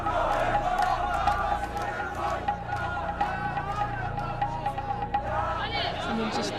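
A crowd of protesters in the Middle East shouts and moves in a dense, noisy hubbub, with raised voices and scattered yells over continuous chatter nearby.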